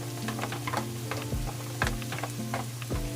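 Garlic sautéing with onion in a pan for creamy sopas, a steady sizzle running throughout with scraping stir strokes and clinks of a utensil against the pan.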